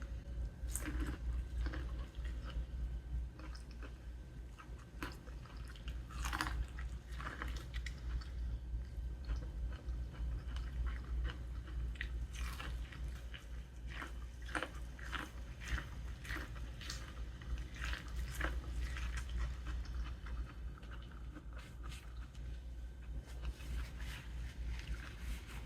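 Someone eats shrimp and corn on the cob, the wet chewing and biting sounds close and quiet, coming in scattered bursts over a low steady background hum.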